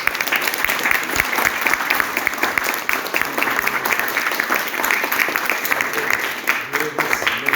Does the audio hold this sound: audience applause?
yes